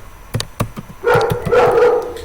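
A dog barks nearby, starting with several short sharp barks and then breaking into longer, louder, strained barking and yelping.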